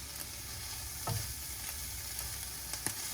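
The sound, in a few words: shrimp cooking in lemon in a pan for fried rice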